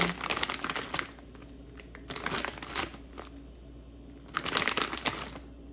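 Frozen pot stickers for a gluten-free wonton soup rustle in their plastic bag, giving bursts of crinkling near the start, in the middle and toward the end, with quieter handling between.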